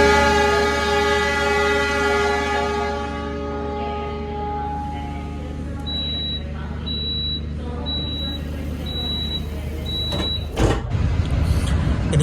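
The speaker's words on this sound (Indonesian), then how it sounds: "Perjalanan kereta api Argo Semeru tiba di stasiun pemberhentian pertama, stasiun Mojokerto." An Argo Semeru passenger train standing at Mojokerto station, with a steady low rumble and hum, a few short evenly spaced high beeps partway through, and a louder rush of sound near the end.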